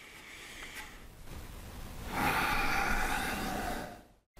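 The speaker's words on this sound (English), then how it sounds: "I'll demonstrate by breathing in so the mic can hear" A snooker player takes slow, audible breaths close to the mic, a soft airy exhale followed by a louder, longer inhale lasting a couple of seconds, then a brief silence.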